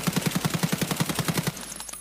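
Rapid automatic fire from a suppressed SA rifle in a video game, shot from a crouch: about a dozen evenly spaced muffled shots over a second and a half, then a quick tail-off.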